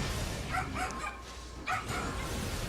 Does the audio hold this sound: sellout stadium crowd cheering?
no